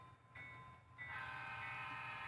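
A departing train rumbles at a distance in a valley station, its low steady drone swelling as it gathers pace, with a faint tonal whine above.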